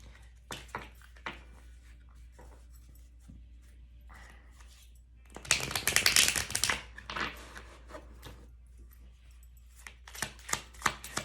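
Tarot cards being shuffled nearby: quick, crisp riffles and taps come in bursts, with a louder, dense flurry in the middle and scattered snaps toward the end.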